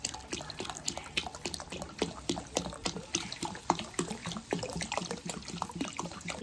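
Water splashes and trickles steadily into a pan of frying meat for Santali shal-leaf mangsho pithe, a close, unbroken watery pouring with light bubbling and no voices.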